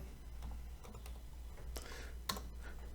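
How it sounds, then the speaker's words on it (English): Part number typed on a computer keyboard: a few faint, scattered key clicks close by over a low steady hum, with one sharper tap near the end. "You would really just type in a pot number,"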